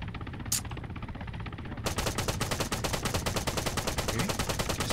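Rapid automatic gunfire in the video game Arma 3 Altis Life, a burst of dense, evenly spaced shots that starts abruptly after a brief quiet stretch and continues loudly to the end.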